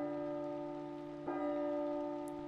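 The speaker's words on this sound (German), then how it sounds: "Das wird der Gongschlag, okay." Gong-like bell strike in the horror game P.T. (Silent Hills), a single resonant hit landing over an already sustained metallic ringing hum, then a long even decay, with no voices.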